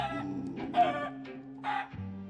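A chicken clucking in the video game Minecraft, a few short clucks in quick succession over a low game hum, fairly close.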